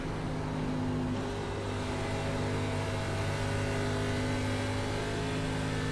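A race car engine in the iRacing sim roars continuously at high revs during an ARCA Menards Series lap at Pocono, the Tricky Triangle, with a steady drone and slight throttle swells and no speech.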